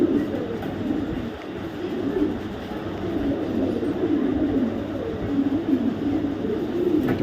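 Racing pigeons coo in low, throaty, rolling calls that repeat throughout, close and steady over a constant background rumble.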